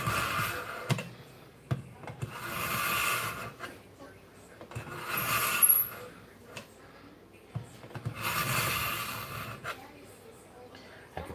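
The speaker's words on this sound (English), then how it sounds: "let's sharpen this one. Again, we're going to go through the coarse stone first." Kitchen knife drawn across a coarse sharpening stone on a countertop, giving repeated rasping, scraping strokes in bursts with short pauses, close and fairly quiet.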